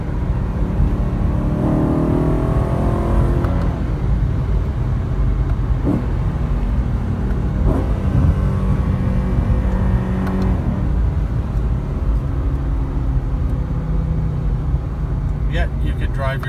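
A 2012 BMW M3 CRT Lightweight cruising on the road, its engine holding a steady hum with brief revs rising and falling, while someone talks over it throughout.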